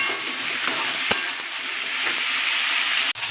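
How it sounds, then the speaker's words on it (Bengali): Potato and pumpkin pieces frying in hot oil with salt and dried red chilli, a loud, close, continuous sizzle with a couple of sharp clicks from stirring, alone without speech. "দিয়ে দেবো আলু কুমড়োগুলো তেলের মধ্যে ভেজে নেব নুন দিয়ে।"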